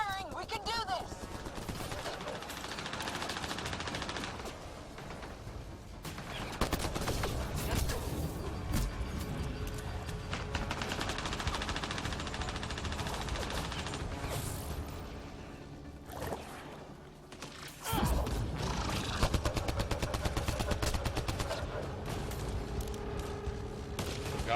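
Mass Effect: Andromeda combat on Insanity difficulty: sustained, dense gunfire in long rapid volleys with brief lulls, mixed with whooshes and impacts under intermittent shouted voices.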